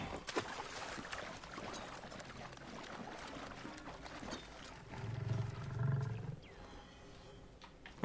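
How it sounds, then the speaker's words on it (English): In Assassin's Creed: Origins, a hippo gives a deep, rumbling roar that swells midway through, over a bed of ambient water and wildlife sounds. "But it's definitely a hippo."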